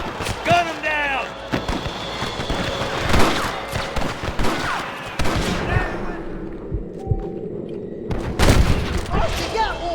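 Gunfire in Red Dead Redemption on PC, a loud gunfight with sharp repeated shots and booms scattered across the clip, mixed with shouting character voices.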